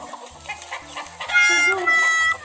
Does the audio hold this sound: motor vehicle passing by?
no